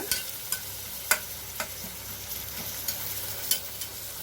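Onions frying in a pan for chicken masala, a soft continuous sizzle broken by occasional sharp stirring clicks and scrapes, heard alone without speech.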